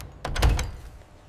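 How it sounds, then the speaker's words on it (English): A heavy wooden house door opens with a brief low thud and a short rumbling scrape that fades out, close by and alone. "The heavy wooden door of the house on Straight Street creaked open, and Ananias stepped into the dim room where"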